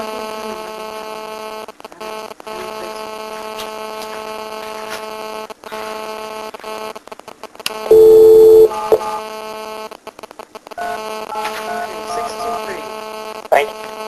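A telephone being dialed to place a call from a courtroom setting, with a loud steady tone standing out briefly amid a constant mains hum and buzz; people talk around it.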